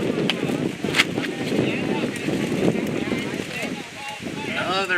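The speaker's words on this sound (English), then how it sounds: "big gust of wind coming through." Wind gusts across an outdoor softball field ahead of an approaching storm, a rough rushing buffet on the microphone with a sharp clatter or two, beneath steady game commentary.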